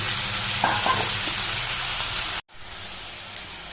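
Vegetables drop into a hot pan with onion for a Konkani veg thali, bursting into a loud steady sizzle with a brief stir, then cutting off abruptly before quieter frying resumes.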